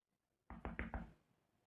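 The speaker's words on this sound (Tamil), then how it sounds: "எவன் வந்து கதவை தட்டுறா" Four quick, firm knocks land on a door in close succession, loud and near, in an otherwise quiet room.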